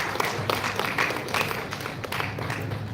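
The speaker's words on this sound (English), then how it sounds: "Let's have a round of applause for Professor Ricky Mohanty." An audience at a school of management event claps for Professor Ricky Mohanty, a light, fairly steady patter of hands from a modest crowd in a hall, fading slightly toward the end.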